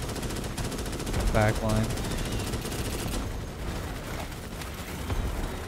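Continuous automatic gunfire from Starship Troopers: Extermination rattles loudly throughout, with a brief voice speaking over the dense shooting.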